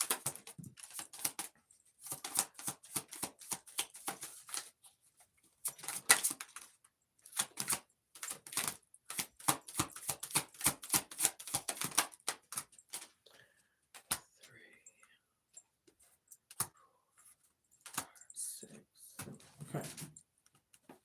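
Tarot cards being shuffled and handled, riffling in quick papery bursts separated by pauses, close and fairly faint, with a voice speaking in between.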